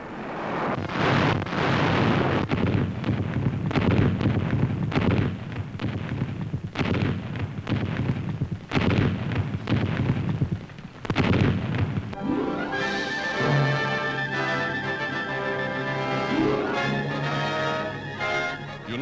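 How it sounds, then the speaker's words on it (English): Rapid artillery fire in a mass military barrage, a dense run of heavy booms and blasts for about twelve seconds before the bombardment gives way to orchestral music. "United States officers now observe the effect of rapid artillery fire, the kind of mass barrage that bewilders the enemy."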